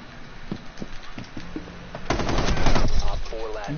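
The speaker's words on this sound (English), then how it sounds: "How did you shoot Devin out the window at the same damn time?" Gunfire in a multiplayer shooter video game: scattered single shots early on, then a loud rapid burst of automatic fire, with faint voices in the background.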